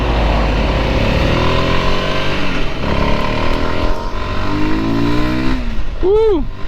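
A 2025 Voge 300 Rally adventure motorcycle's single engine pulls hard under heavy throttle, a steady droning roar rising in pitch across several gears, close and loud, with a rider's voice mixed in and a sharp whine near the end.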